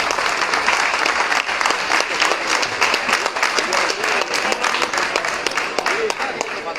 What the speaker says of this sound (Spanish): Les pedimos otro aplauso para el compañero diputado Gabriel Otero